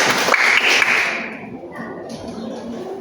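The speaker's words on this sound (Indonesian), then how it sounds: "Ya, betul. Tepuk tangan dong" Short burst of classroom applause after a correct quiz answer, loud clapping for about a second that thins into a softer patter with faint voices underneath.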